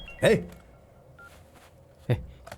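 A telephone rings in a dubbed South Indian action film scene: two brief, loud electronic bursts about two seconds apart, with a faint tone between them and a quiet room behind.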